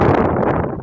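Wind gusts loudly across the microphone at the Kenai boat launch dock in Alaska, a heavy, close buffeting rumble that fills the short moment.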